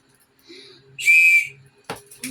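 A single sharp, shrill whistle blast lasting about half a second, preceded by faint quiet sounds and followed by clattering noises.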